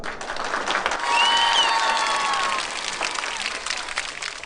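Audience applause opening the 6th Korea Arts and Culture Masters special invitational exhibition ceremony, a dense, steady clapping that swells and holds for a couple of seconds, with some voices mixed in.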